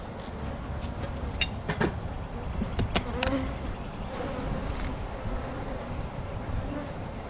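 Honey bees buzz around an open hive during a frame inspection, a steady droning hum with a few sharper passes close to the microphone, outdoors with light wind.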